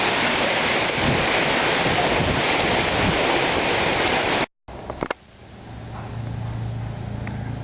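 Heavy rainy-season rain pours down around a leaky shelter, a loud, steady hiss for several seconds, then a brief cut, a couple of knocks and a softer, more distant wash of rain with a low hum.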